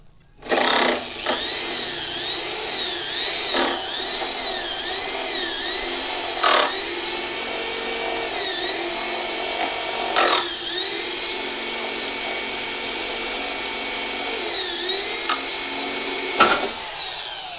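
A power drill bores a hole in a tin sheet on a shed roof, its loud whine running steadily with several brief stops and restarts, starting and stopping in short bursts.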